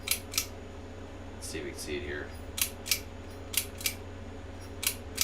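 Crisp mechanical shutter clicks from an old 1953 film camera, about eight sharp snaps spaced irregularly and heard close up, with someone talking quietly between them over a low background hum.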